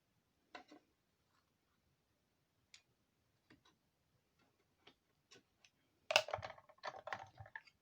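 A small hand-cranked die-cutting machine works through paper, giving sparse quiet clicks and ticks, then a denser burst of ratcheting crackle near the end, close and faint with no talking.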